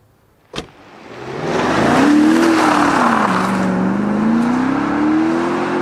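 A BMW X6 M50i (G06) power window runs up and down inside the cabin: a soft thump, then a loud, continuous electric motor whine that rises and dips in pitch, alone and without speech.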